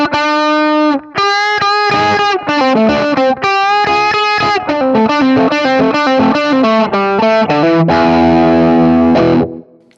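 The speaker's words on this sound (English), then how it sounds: "I have a solo, which is just a like gained up louder version of the 1959 super lead." Distorted electric guitar solo through a gained-up, louder 1959 Super Lead amp model, played as a continuous run of sustained, bending notes with brief gaps, loud and up close, ending on a crunchy chord-like burst.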